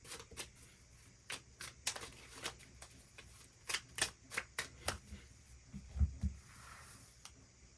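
Tarot cards being shuffled and drawn, heard as a run of crisp, close flicks and riffles in an irregular rhythm, fairly quiet, with a couple of soft low thumps near the end and no talking.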